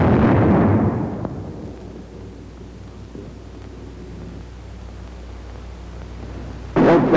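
A bazooka rocket blasts a sandbag emplacement in a loud, rolling explosion that fades into a long low rumble, followed by a second sharp burst near the end.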